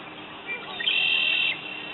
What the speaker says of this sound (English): get plenty of red-winged blackbirds singing today